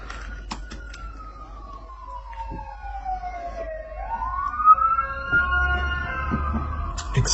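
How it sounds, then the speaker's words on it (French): An ambulance siren wails past on a street in the United States, a long falling then rising tone that grows louder as it approaches. Faint background noise sits under it. "Attention, on est aux States ici. Il y a les ambulances qui vont passer."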